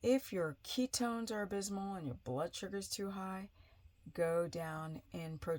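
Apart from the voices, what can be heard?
No distinct noise like a dog, phone or traffic.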